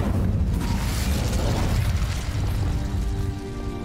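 In Hogwarts Legacy, a cast Incendio fire spell bursts with a loud, close whoosh and rumbling roar, then crackles and fades into a mechanical tail.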